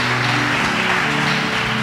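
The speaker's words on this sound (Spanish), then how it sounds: "Den un aplauso fuerte al Señor." A church congregation applauds in a steady, dense wash of clapping that holds evenly throughout, loud and continuous, with sustained tones running beneath it.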